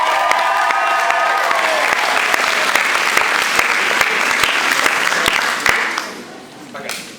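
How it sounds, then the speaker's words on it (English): Audience applause at the close of a school stage production of Beauty and the Beast, a dense, steady wash of clapping that holds for several seconds, with voices and a whistle-like tone over it, before thinning out near the end. "So can everyone please give a round of applause?"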